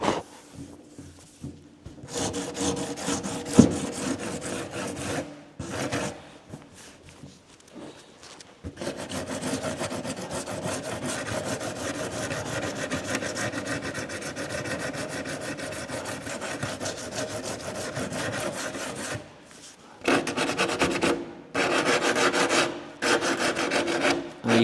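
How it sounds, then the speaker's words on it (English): Sandpaper of 80 grit on a curved block rubs along a wooden edge on an RB200 build, a steady close rasping scrape in long continuous strokes, broken by short pauses. "80 grit on a curved block. I'm just rolling over that edge."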